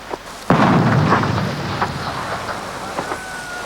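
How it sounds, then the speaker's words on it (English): A landmine is detonated during demining work in Mozambique, a sudden loud blast with a low rumbling tail that decays over a few seconds, heard in open outdoor air. "Every time a mine goes up, the Mozambique deminers say that's another bomb gone."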